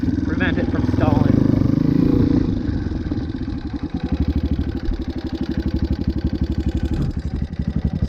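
A dirt bike engine runs at a rough, pulsing idle while the rear brake is pressed, slowing toward a stall, with its rhythmic chugging close by and someone talking over the first part.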